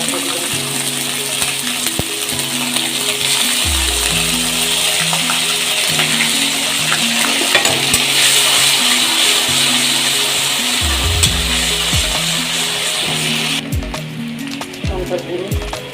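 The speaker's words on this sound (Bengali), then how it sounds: "সর্ষের তেল গরম হচ্ছে। এবার আমি এর মধ্যে একটু থেতো করা গরম মশলা দিয়ে" Crushed garam masala spices frying in hot mustard oil, for a Bengali prawn malai curry, give a steady bright sizzle throughout, with low background music and no talk.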